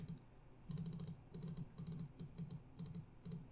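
Rapid bursts of computer keyboard typing, close and crisp, coming in about six quick clusters separated by short pauses, with no voices.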